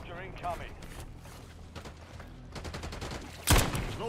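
Warzone game gunfire crackles in short bursts of rapid shots under a player's voice chat, ending with a sharp, loud nearby blast.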